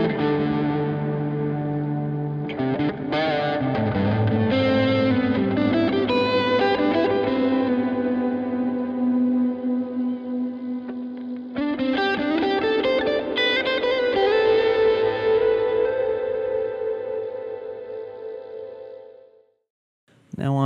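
Electric guitar through a TS9 overdrive pedal playing sustained chords and melodic lines with a mild gritty distortion and effects shimmer, ending with a brief pause.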